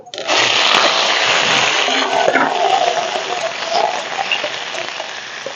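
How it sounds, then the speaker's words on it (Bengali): A loud, steady hiss of potatoes frying in hot oil for aloo dum, starting abruptly and continuing without pause, dense and close. "তেল গরম হয়ে গেছে আলুগুলো ভেজে নেব"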